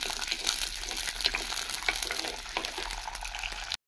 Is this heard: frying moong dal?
yes